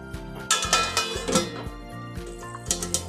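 A metal lid lifted off a pan of egg bhurji made with spring onions, with clinking and clattering of cookware, several short knocks and scrapes over a steady low kitchen hum, close and fairly loud, no talking.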